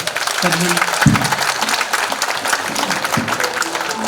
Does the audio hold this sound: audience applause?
yes